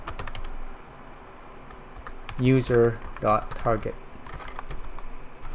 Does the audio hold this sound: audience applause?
no